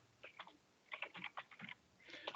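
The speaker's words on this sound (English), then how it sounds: "Let me type it there." Computer keyboard typing during an online meeting, quiet bursts of quick key clicks in several irregular clusters, with no talking.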